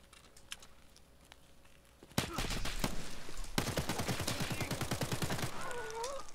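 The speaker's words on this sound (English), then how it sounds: "That was the AK we heard" Automatic AK rifle fire in Escape From Tarkov: a single sharp shot, then a dense, loud burst of rapid rounds, with a faint chirping tone near the end.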